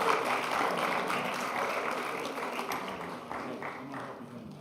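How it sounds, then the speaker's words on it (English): Church congregation applauding to honor a group, a steady wash of clapping from many hands sustained at moderate level throughout, tapering slightly toward the end. "you can give them a round of applause for that."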